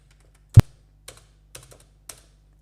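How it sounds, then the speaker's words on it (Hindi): Keys tapped on a computer keyboard during work in Tally Prime accounting software: one sharp loud keystroke followed by a few lighter, spaced taps in an otherwise quiet room, no talking. "उसके बाद कीबोर्ड से पेज अप प्रेस करेंगे और फिर से कंट्रोल पी दबाएंगे और कीबोर्ड से आई दबाएंगे"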